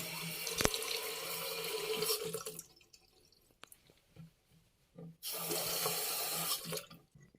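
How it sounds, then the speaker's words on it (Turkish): Water runs from a repaired bathroom faucet after a dripping-tap washer replacement, a steady close rush that cuts off, gives a few brief spurts and drips, then flows strongly again. "Suyu açıp kontrol ediyoruz."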